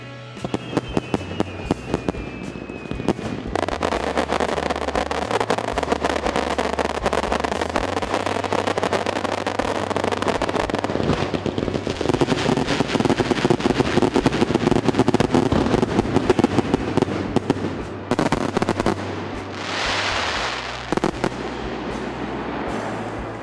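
Fireworks boom and crackle continuously over Hakkaku Lake at the Togane cherry blossom festival, loud bursts overlapping one after another with rumbling echoes throughout.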